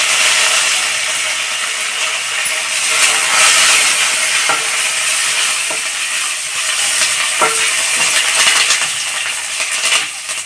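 Dried red chillies and curry leaves frying in hot oil, a steady loud hissing sizzle with occasional faint clicks from stirring, continuous and close throughout without speech.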